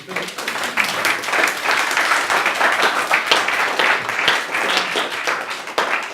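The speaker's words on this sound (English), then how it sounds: "A round of applause, please." Audience applause following a talk on accessibility, a dense burst of many hands clapping for several seconds, loud and steady before tapering off.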